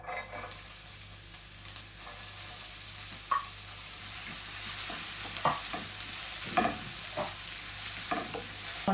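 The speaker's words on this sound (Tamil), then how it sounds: "இப்ப நான் இந்த வெட்டி வச்சிருக்கிற வெங்காயத்தை முதல்ல போட்டு நல்லா வதங்க விட போறேன்" Chopped onions fry in hot oil with a steady, hissing sizzle, broken by occasional scraping stirs of a spoon against the pan.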